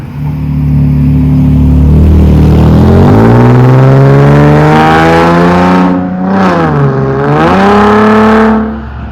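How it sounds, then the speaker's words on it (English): A car drives past close by on the street out front, its engine loud and rising then falling in pitch as it passes and fades away. "Sorry about that car."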